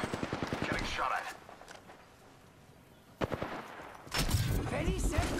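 Rapid automatic gunfire in Apex Legends Season 5 rattles in a burst, fades to quiet, then sharp shots and another loud volley return, with voice chatter mixed in.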